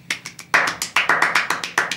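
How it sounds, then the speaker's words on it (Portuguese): A small group claps in a short, quick burst of applause, about a dozen sharp claps in an uneven rhythm, close and fairly loud with no voices. "Palmas!"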